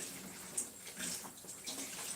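Hot tap water runs steadily while a shrimp tank filter is being cleaned, a soft continuous splashing hiss at moderate distance with small bursts of spatter, and no talking.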